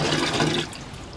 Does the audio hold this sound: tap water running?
yes